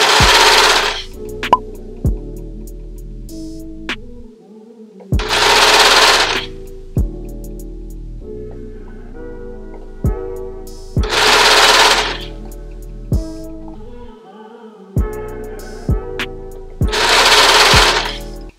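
A serger sewing machine stitches swimsuit fabric in repeated bursts of rapid whirring, broken by brief pauses and small clicks as the material is guided through. The machine is close and loud.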